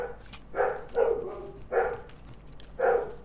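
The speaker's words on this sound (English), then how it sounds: "Now my dog's barking." A dog barks four times in an even rhythm, moderately close and clear, without any speech over it.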